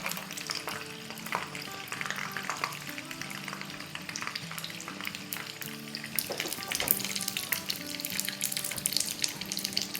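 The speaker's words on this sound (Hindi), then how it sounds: "अब 30 सेकंड फ्राई करके और निकाल लेंगे।" Pizza pockets fry in hot oil with a steady, close bubbling sizzle and crackle, no voices, holding at an even level throughout.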